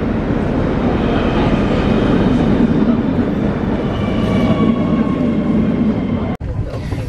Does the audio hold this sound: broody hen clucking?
no